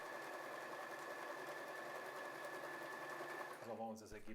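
A W6 N 1615 sewing machine runs steadily, stitching a zigzag along the edge of appliqué fabric, a continuous close mechanical whir that stops near the end.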